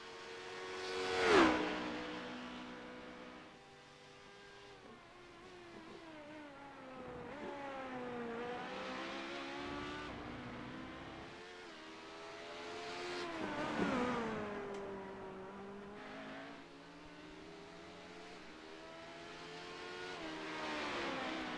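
LMP2 prototype engine during a sports car race, heard through a long run of rising and falling gear-shifting revs as cars pass, swelling loud at moments and then fading, with no talking.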